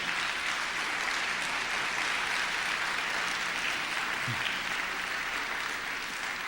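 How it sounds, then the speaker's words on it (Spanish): Steady, dense applause from a church congregation fills the whole stretch at an even level, with no talk over it. "Dale fuerte ese aplauso."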